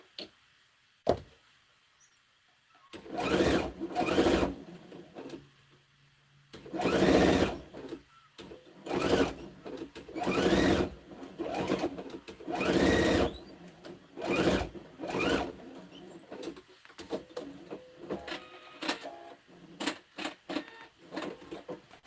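A sewing machine runs in repeated bursts of rapid whirring stitches, separated by short pauses, while sewing quilt-as-you-go hot pads; close and clear with no talk.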